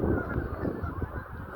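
A flock of geese and ducks on a lake in snowy weather, honking and quacking in a dense, continuous chorus from across the water, loud and steady throughout with no speech.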